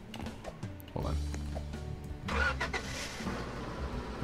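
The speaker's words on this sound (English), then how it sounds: "Let's pull the truck around to this side." A truck engine cranks and starts in the Roblox game Lumber Tycoon 2, then runs with a low mid-pitched rumble, while a player talks over it.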